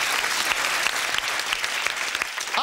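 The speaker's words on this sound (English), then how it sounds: "Give them a round of applause as we put their names up now." Studio audience on a TV game show bursts into steady, dense applause that fills the whole stretch, with a brief voice near the end.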